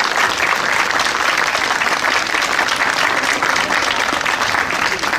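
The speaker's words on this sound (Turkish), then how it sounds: "Sizlere zahmet siz de bu e, mükemmel ekibe bir alkış yaparsanız çok sevinirim." A theatre audience at the opening of the Alanya Theatre Festival applauds the production team, steady dense clapping that stays loud and even for the whole stretch with no voices standing out.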